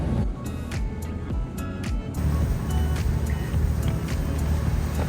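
A boat engine runs at 2,000 RPM, making a loud, steady drone with a low rumble throughout, with water and wind noise over it and no talking.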